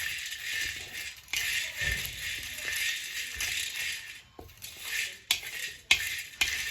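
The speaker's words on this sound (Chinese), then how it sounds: "继续不停地翻动，把薏米炒香。" Job's tears (coix seeds) tossed and stirred continuously in a dry pan after winter melon peel has been toasted, giving a busy scraping rattle of grains against metal with brief pauses and sharper knocks near the end.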